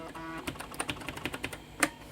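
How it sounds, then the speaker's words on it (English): Typing on the keyboard of a 1989 Philips PCL 304 Intel i386sx laptop, irregular individual key clicks spaced apart, close and crisp, ending with a sharper clack. "Let's see if the keyboard works."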